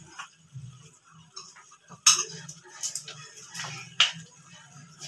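Utensil clinks and scrapes against a pan as chicken and vegetable kebab batter is mixed, a few sharp metallic taps standing out over soft, steady stirring.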